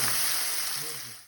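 Chopped garlic, peppers and onions fry in hot oil with a steady, soft sizzling hiss that carries on briefly and then cuts off.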